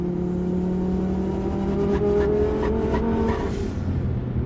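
An Audi RS3 running a new cam, with a turbo surge problem, holds a steady loud idle and rev with a pulsing flutter of surging. Someone talks over the engine.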